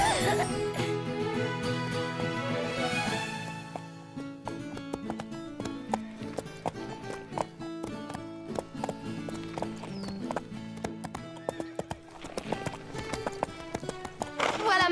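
Cartoon horse hooves clip-clop at a steady ridden pace beneath a continuous orchestral music score, with occasional voices and a brief whinny-like accent.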